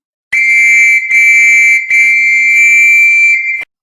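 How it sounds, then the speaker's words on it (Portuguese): A piercing, high-pitched alarm beep sounds as a loud electronic tone, played in three closely linked bursts with brief dips between them, alone without any voice. "Um apito agudo imediatamente se fez ouvir"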